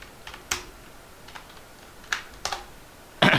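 Computer keyboard keys tapped in a few sparse, separate clicks with brief pauses, ending in a louder cluster of keystrokes; close and fairly quiet, no talking.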